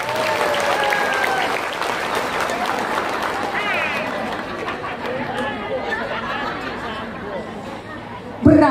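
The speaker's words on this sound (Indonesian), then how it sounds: "Tepuk tangan dulu dong." A crowd at an Islamic religious gathering in a village applauds loudly and continuously, mixed with chatter and murmuring voices, ending in a brief louder knock.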